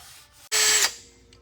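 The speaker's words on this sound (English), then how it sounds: "Wire brush used on a drill, obviously it gets going in one direction and flattens that side down." A wire brush on a power drill spins up in one brief burst of about a third of a second, a loud whirring scrape, with quiet workshop background before and after while work goes on on a NASCAR Buick body.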